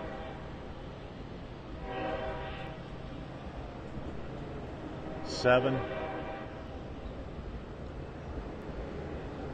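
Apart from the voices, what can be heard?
commuter train passing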